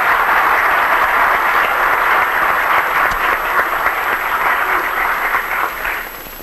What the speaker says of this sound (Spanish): ¿Qué tal si todos le damos un aplauso al amigo que está ahí sentado?